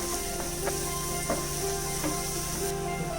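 Onion, ginger and masala frying for a Kerala-style beef roast, a constant close sizzle broken by a few sharp scrapes and clicks of a spoon stirring the pan.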